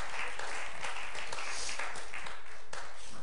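A church congregation claps hands together in sustained, dense applause, loud and continuous throughout without pause.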